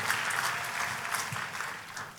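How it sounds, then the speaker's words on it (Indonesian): A church congregation applauds during a sermon, a steady wash of many hands clapping at moderate volume that holds evenly throughout without a break. "Kita kasih tepuk tangan yang paling meriah buat Tuhan kita."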